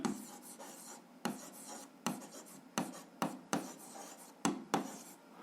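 Pen or chalk writing out a seventh-grade algebra solution, close scratchy strokes in short repeated bursts with brief pauses between them.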